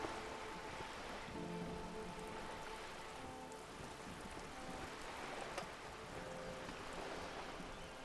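Rain falls steadily in the video game Disco Elysium, a faint, continuous hiss of drops with a low hum beneath, even throughout with no voices.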